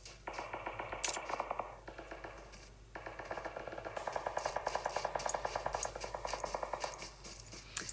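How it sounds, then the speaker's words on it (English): Rapid bursts of gunfire in PUBG crackle almost continuously, with quick repeated shots and sharp metallic clatter layered over a busy game soundscape during a tournament match. "teams like Team 11 and 17 who are nearby can hear the gunshots"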